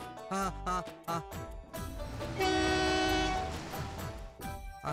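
A train horn blares over the rumble and clatter of a passing train, preceded by short tonal bursts, loud and sustained for a couple of seconds before fading.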